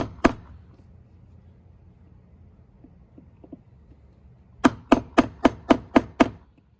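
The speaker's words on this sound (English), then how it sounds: "if I take my chisel and break those wood fibers" A chisel scoring across the wood grain near a door's striker plate is struck by a hammer: one sharp blow near the start, then after a quiet stretch a rapid, evenly spaced run of about seven loud close cracks.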